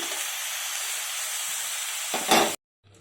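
Soaked chana dal tipped into a hot pan of brinjal pieces gives a steady, loud sizzling hiss that flares up briefly near the end before cutting off abruptly to near silence.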